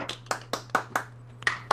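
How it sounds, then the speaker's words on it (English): A lone person gives a sparse, slow golf clap, about eight distinct hand claps spaced irregularly, close and clear over a steady low hum. "golf clap"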